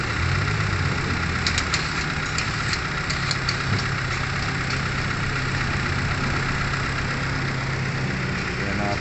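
A rebuilt gasoline engine in a Hyundai Tucson idles steadily and loudly at close range, a constant low hum with a few faint metallic ticks over the top.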